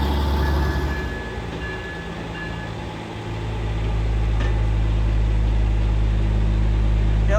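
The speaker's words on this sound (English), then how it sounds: "The train is moving." Pikes Peak cog railway train moving through a train yard in Manitou Springs, Colorado, a steady low rumble and mechanical drone that grows stronger and continuous as it gets under way, with no voices.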